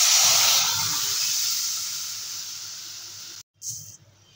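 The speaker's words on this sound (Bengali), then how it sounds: "এবারে ডালটা ঢেলে দেবো।" Chickpea and pea dal hits a hot pan with turmeric and salt already in it, giving a loud close steaming hiss that slowly fades, then a brief break and a short second sizzle.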